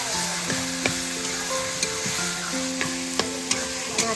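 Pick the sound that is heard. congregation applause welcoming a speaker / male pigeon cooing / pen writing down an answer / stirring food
stirring food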